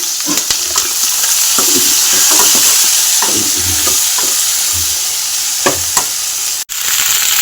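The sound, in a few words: dried chilies and nigella seeds frying in ghee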